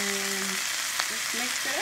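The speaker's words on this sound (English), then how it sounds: "We put our onions in there. Then we are going to add our carrots and spinach in." Onions, carrots and spinach fry in a pan with a dense, even sizzle up close, while faint tonal squeaks and hums drift underneath.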